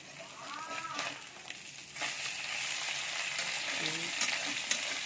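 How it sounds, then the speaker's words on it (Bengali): Small fish shallow-frying in a hot pan for a Bengali small-fish recipe, giving a steady, close sizzle and crackle throughout with a few stirring scrapes and no talk. "ছোটো ছোটো মাছ এসে হালকা করে ভেজে নেবেন, নরম নরম করে"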